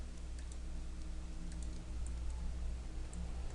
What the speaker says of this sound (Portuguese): E vai dar um Enter.